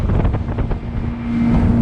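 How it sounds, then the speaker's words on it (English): A boat's outboard motor drones steadily at high revs, about 3,300 rpm at 20 knots, its pitch rising slightly, with wind rushing across the microphone. "the motor's revving at 20 knots"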